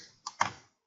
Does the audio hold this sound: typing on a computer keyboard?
yes